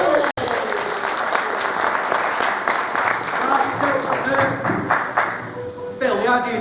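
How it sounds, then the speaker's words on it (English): An audience at a live retro gameshow event in Blackpool breaks into a loud, sustained round of applause with crowd noise, dense clapping that thins toward the end as a voice starts to speak. "Round of applause for"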